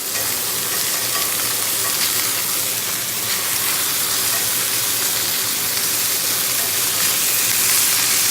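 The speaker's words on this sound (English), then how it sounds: "we're going to put some herbs, garlic, and butter into the pan, let it melt" Butter, thyme, garlic and herbs sizzle steadily in a hot steak pan, a dense continuous frying hiss with no pauses, close and loud, no voices.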